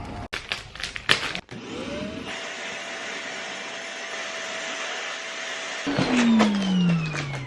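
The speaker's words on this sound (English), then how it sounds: "Now I just have to vacuum seal these." A vacuum sealer runs on packed bags while someone prepares to move, giving a steady mechanical drone for a few seconds that ends in a louder, shifting whine, with no talk over it.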